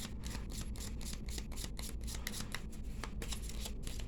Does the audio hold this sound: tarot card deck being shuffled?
yes